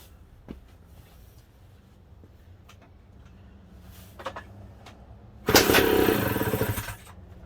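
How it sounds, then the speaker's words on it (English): A Kawasaki KE125 motorcycle engine, on its first start after repair work, bursts into a loud, close, rattling run of about a second and a half, following quiet handling noises. "Motor sounds healthy."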